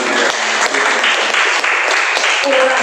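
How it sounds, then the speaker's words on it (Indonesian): A church service congregation applauds steadily and fairly loudly for the whole stretch, a dense, even clatter of many hands with no pauses. "Berikan tepuk tangan yang bahagia."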